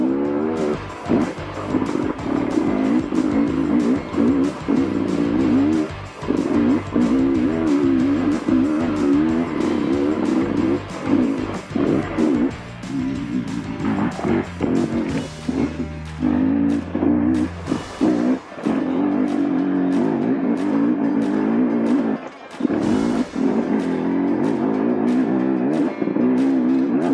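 A 2023 Beta 300rr two-stroke dirt bike fitted with a new exhaust climbs a hill, its engine loud and close, revving hard and rising and falling with throttle blips and brief drops through the ride, with no talk.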